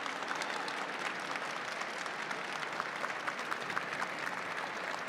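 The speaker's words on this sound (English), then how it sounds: "Please give us a round of applause for Forrest and Emily for joining us today." An audience applauds after a panel talk at an event, a dense, steady wash of many hands clapping that holds at an even level throughout, with no voices over it.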